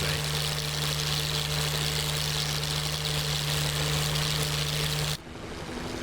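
The engine of a T-51 propeller plane in the DCS flight simulator drones steadily and loudly with a strong low hum, then cuts off sharply after about five seconds to a softer, thinner background.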